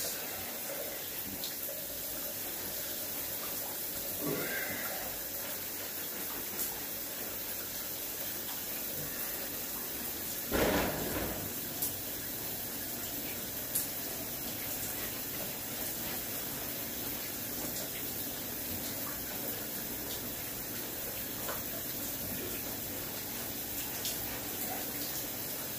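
A shower running for a paraplegic person washing, a steady close rush of falling water with a few louder splashes and knocks, with faint speech now and then.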